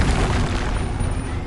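Deep, rumbling blast of the Confringo fire spell in the video game Hogwarts Legacy, a loud, dense explosion filling the whole moment with low booming crackle.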